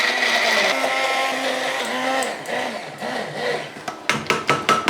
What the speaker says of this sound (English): here I've got a little hand blender, and I'm going to whisk this until I get a lovely soft cream